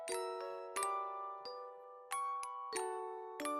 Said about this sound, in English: a little silver bell around her neck, and it chimed softly with every step she took